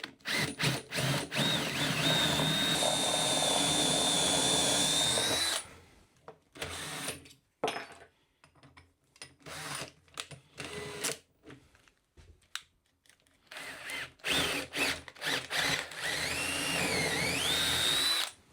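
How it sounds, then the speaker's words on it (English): A power drill whines steadily for several seconds drilling through wood, stops amid clunks and handling noises, then runs again near the end, close and loud. "So I'm going to drill through with a smaller bit and then enlarge the hole."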